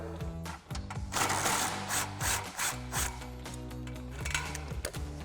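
Ratcheting and rubbing mechanical sounds of a 13mm swivel socket on an extension working loose a bolt on a Dodge Challenger exhaust hanger, close and steady with uneven bursts, no talking.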